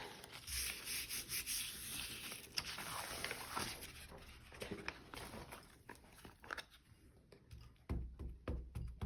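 A gelli printing plate is wiped clean by hand, a close, steady rubbing and scrubbing that continues throughout, with a few soft knocks and shifts toward the end.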